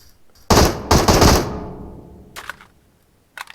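Close, loud bursts of rapid gunfire from PUBG Mobile with a synthetic edge, then a fading tail and a few short, quieter shots afterward.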